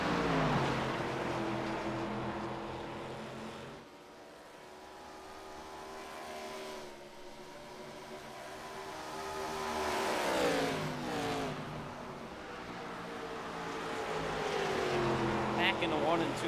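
NASCAR Xfinity-style race cars lapping Rockingham in the iRacing sim, their engines droning in layered tones that dip and swell as the pack passes, running steadily beneath excited race commentary.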